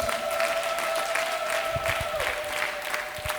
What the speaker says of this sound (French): Applaudis très bien pour le Seigneur Jésus.